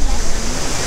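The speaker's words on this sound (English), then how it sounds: "it's not a waterfall, it's just a water flowing" Water flowing in a stream in a beautiful Croatian park, a steady broadband rush close to the microphone with low rumble and breezy noise underneath, continuous through the moment.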